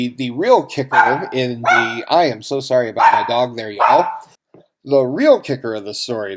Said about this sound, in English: I am so sorry about my dog there, y'all.